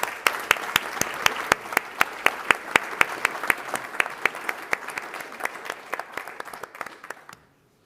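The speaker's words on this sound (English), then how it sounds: "So please join me in giving a big hand of applause to our speakers." Audience applause for the speakers at a European forum conference in Vienna, dense and sustained with sharp individual claps standing out, then thinning out and stopping abruptly at the end.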